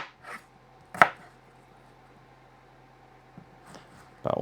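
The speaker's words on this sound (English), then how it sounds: "Let's do a few red potatoes. I'm just gonna quarter them up like so." A knife quarters red potatoes on a cutting board in a quiet kitchen, with one sharp chop near the start, a couple of softer taps, and a closer burst of cutting at the end.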